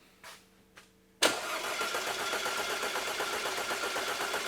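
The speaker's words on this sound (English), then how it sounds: "Go ahead and crank it." A 2009 Audi A4 2.0T with a misfire fault has its ignition clicked and chimes sound, then it cranks briefly and fires into a steady, close idle that runs on evenly.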